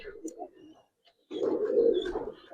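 Giribaz pigeons cooing close by, a short low burble, a pause, then a longer throaty coo, with a voice mixed in.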